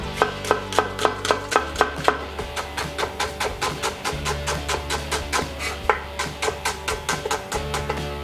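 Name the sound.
knife chopping shallots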